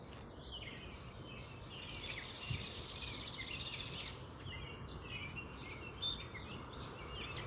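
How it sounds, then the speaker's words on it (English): Birds singing outdoors on a quiet Sunday morning, with scattered chirps and song phrases drifting in from a distance over a steady insect hum. "I just like to sit here and have you hear the birds."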